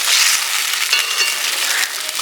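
Fish dropped into hot oil in a home kitchen, giving a loud, continuous sizzle and crackle with a few sharper spits, close up and with no talk over it.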